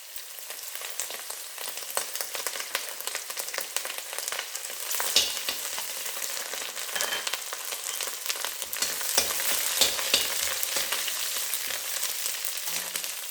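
Crushed garlic and ginger fry in oil for vegetable fried rice, a continuous near sizzle with scraping stirs and small bursts of spatter, no talking over it.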